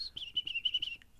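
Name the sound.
person whistling imitating a chickadee call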